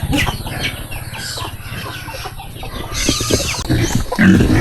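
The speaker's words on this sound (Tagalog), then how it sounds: "Uy, daming manok. Daming manok. Mga black chicken." Black chickens cluck repeatedly nearby on a muddy farm, growing louder toward the end, mixed with rustling and farmyard noise.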